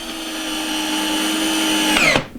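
Drill driving a 2-inch pocket screw through a Kreg jig into wood, one loud steady whine that rises slightly in pitch and cuts off sharply after about two seconds, very close.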